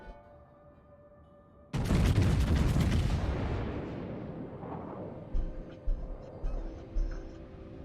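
A battleship's main guns fire in World of Warships: one heavy, loud salvo booms out of a low hum, then rumbles away in a long fade, followed by a few faint clicks and thuds.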